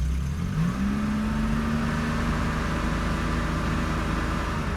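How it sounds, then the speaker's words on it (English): A warm 1977 Porsche 911S Targa with a 2.7-liter engine idles steadily nearby, a smooth, even low hum after a brief rise in pitch at the start. "Engine sounds absolutely beautiful right now."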